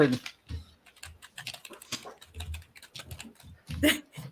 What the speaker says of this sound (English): It sounded like somebody was back there typing an email, back and forth.